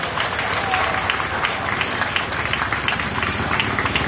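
Crowd applause at an outdoor Azadi Ka Amrit Mahotsav celebration with stunt displays, steady dense clapping and cheering running throughout under a busy, loud open-air background.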